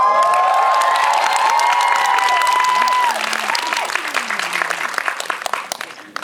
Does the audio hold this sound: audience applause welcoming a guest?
yes